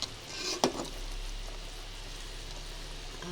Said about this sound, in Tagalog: Halo lang natin mga kapalangga.